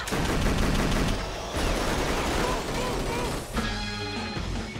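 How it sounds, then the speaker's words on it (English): Dense, continuous gunfire from a film shootout, loud rapid bursts close up, easing slightly midway and then surging again with sharp cracks and rattling shots. "We're shooting our way out of here, bro."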